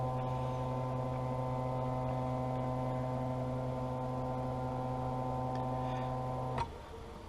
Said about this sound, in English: the shape of your lens as it traces, where it only traces the right lens going all the way around